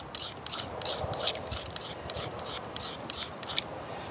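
Fire starter rod scraped over split maple tinder, using a Swiss Army knife: about a dozen quick, evenly spaced raspy strokes, close and fairly soft, with a faint rustle between them.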